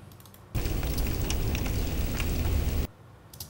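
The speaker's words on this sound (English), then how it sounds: "And one was rain." Steady rain sound effect hisses loudly and evenly for about two seconds, starting and stopping abruptly, a dense broadband patter with no voices.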